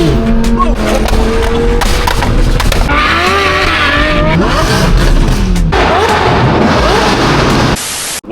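Audi R8 V10 engine and exhaust rev hard and loud, rising and falling in pitch with sharp pops and a roaring pass, while people talk over the noise.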